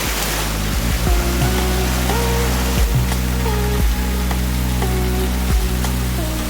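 Small waterfall at Banyumala Waterfall near Singaraja in North Bali, a continuous rushing, hissing pour of water heard close up, with a few clicks and knocks mixed in.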